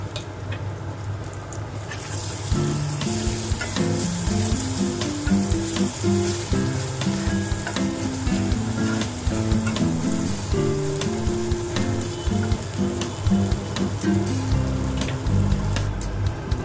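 Prawns frying in a pan as ginger paste and cumin powder are added: a steady, bright, crackling sizzle with occasional stirring, close and continuous, accompanied by background music and no talk.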